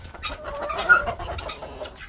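A rooster in a chicken coop gives soft, close clucks and short calls amid rustling, with faint background noise.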